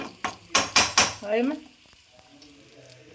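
Chili and coriander masala frying in a pan for a pork roast: several brisk, loud spatula scrapes and stirring strokes over a crackling sizzle, easing into a quieter steady fry.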